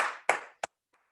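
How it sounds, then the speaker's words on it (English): A small group claps together at the end of a home workout class, a short ragged burst of handclaps that fades out, followed by a couple of isolated claps. "give yourself a round of applause"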